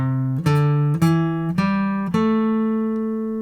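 Single guitar notes plucked one after another in a short major pentatonic scale run, five clear tones rising in pitch, each ringing on before the next, close and alone.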